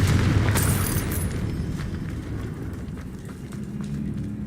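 A Confringo blasting spell explodes in Hogwarts Legacy with a loud, dense boom and a bright crack at the start, then settles into a rumbling, crackling roar that rolls on to the end.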